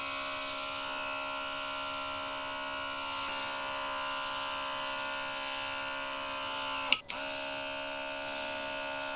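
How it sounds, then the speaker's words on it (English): A portable airbrush compressor runs with its airbrush attached, holding a steady high-pitched electric whine and buzz at close range, broken by one brief sharp knock near the end. "we're just going to hook up the airbrush that comes with it directly to the unit and see how that performs"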